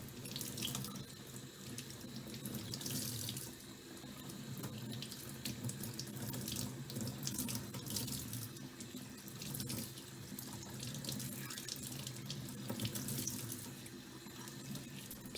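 Tap water runs steadily into a sink while a Shark Stratos vacuum foam filter is rinsed and squeezed, a continuous splashing flow with uneven surges throughout, no voices.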